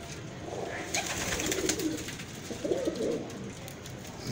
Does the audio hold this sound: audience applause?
no